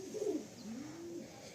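A newly paired master pair of pigeons coos in a loft, one low rolling coo swelling and then drawing out steadily, close and clear with no talking.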